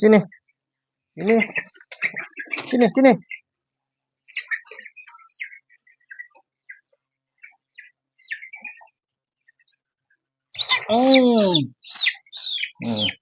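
Faint, scattered peeps and chirps from crossbred chicks being moved to a brooder sit between stretches of close talking, with louder speech at the start and end.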